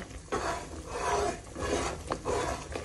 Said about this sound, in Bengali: আমি এখন এটা না হওয়া পর্যন্ত এইভাবে লাড়বো।